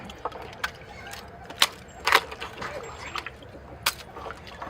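A collected thuja bonsai's root ball is lowered into a tub of ice water, making irregular close sloshes, trickles and light clinking splashes, with the loudest burst midway.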